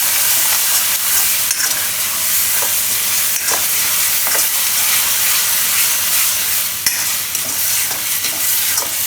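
Masala sizzles in hot oil in a kitchen pan as it is stirred for winter-style Maggi noodles, a steady bright frying hiss with periodic scraping strokes of the spoon, close and continuous with no talking.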